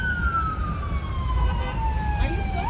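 Several Newark police cars responding on Springfield Avenue, their sirens wailing steadily and sliding down in pitch, loud over street traffic rumble, with voices in the background.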